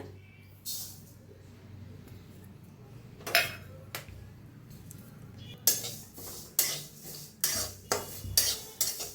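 Sesame seeds dry-roasting in a kadhai are scraped and stirred with a metal spoon, first with scattered clinks, then a run of sharp, regular scraping strokes close by over a low steady hum.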